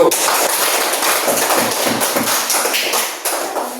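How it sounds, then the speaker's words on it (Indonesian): Applause for a group in an Indonesian class or gathering: dense, steady clapping from many hands, loud and close, lasting several seconds without speech. "Beri aplaus untuk kelompok 1"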